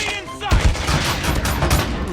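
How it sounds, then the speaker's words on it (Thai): Rapid, dense bursts of SKS semi-automatic rifle fire in Call of Duty Mobile, using the Deathlance skin. The shots come close and loud in a sustained volley after a brief lead-in. "มันต้องยิงรัวๆแบบนี้นะ"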